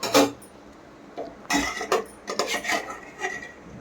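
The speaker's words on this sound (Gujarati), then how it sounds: "હવે આપણે કુકર ખોલીને જોઈશું તેમાં આપણે દૂધીનું છીણ બફાઈ ગયું હશે" Metal clatters and clinks as a pressure cooker holding boiled grated bottle gourd is opened, with several scraping, knocking handling sounds close by in a kitchen.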